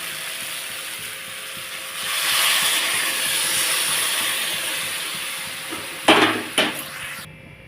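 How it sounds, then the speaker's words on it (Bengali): Water poured into a vegetarian vegetable curry frying in a pan sets off a rising, steady hiss and sizzle, followed by a couple of sharp clacks of utensils near the end, with no talking. "আমার এটা তো এখন পরিমাণ মতো জল দিয়ে দেবো"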